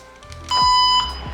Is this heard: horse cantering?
no